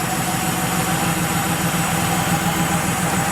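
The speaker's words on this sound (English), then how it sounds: "just settling right into a nice idle" A Porsche 3.2 Carrera engine idles smoothly and steadily up close, a continuous low rumble with an even mechanical hum and no revving.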